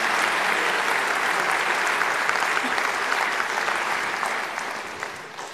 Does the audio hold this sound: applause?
yes